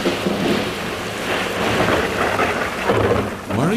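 A thunderstorm in a Tamil drama about Job, with steady heavy rain and rolling thunder rumbling throughout, loud and close, with no voices.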